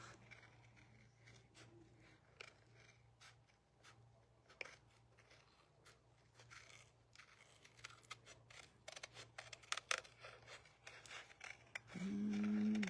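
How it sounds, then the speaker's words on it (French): Scissors snip repeatedly along a small edge in a quiet room, a series of faint, close, crisp cuts over a low hum, ending in a louder rustle. "Découper mon petit bord."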